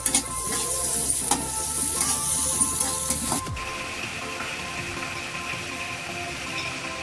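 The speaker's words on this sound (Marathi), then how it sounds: "कांदा थोडा गुलाबी ब्राऊन होऊन द्यायचा आहे आपल्याला त्याच्यामध्ये एक लाल बेडगी मिरची टाकलेली आहे आता हे ती हालून घेते" Chopped onion frying with a red bedgi chili and being stirred in a pan, a bright sizzle with scraping spoon strokes at first, then dropping to a quieter, steady hiss partway through.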